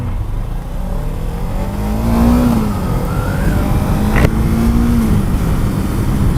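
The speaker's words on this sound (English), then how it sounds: "face shield open up to about 41 miles an hour to see how the wind noise is or isn't" Motorcycle riding at about 41 mph with the face shield open, a steady loud engine drone and rushing wind noise, with the pitch rising and falling as the revs change, no talk.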